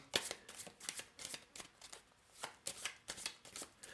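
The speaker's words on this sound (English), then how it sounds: "If you have the ones, you'll shuffle them." Rapid riffling bursts of playing cards being shuffled for a board game, several quick repeated rustles close by with brief pauses between them.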